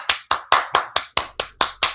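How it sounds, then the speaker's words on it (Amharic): Nine crisp hand claps in a steady, evenly spaced rhythm, close and clear, with nothing else behind them. "ጭብጨባ ለእንደዚህ አይነት ሴቶች እንደዚህ አይደለም።"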